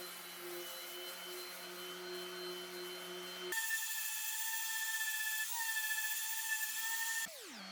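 A power sander runs on a handmade wooden axe handle with a steady whining motor hum. The pitch jumps higher and louder midway, holds there, then winds down at the end. Nobody speaks.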